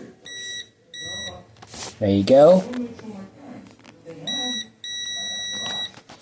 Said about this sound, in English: just get the touch one that probes together. There we go. And then listen for a beep.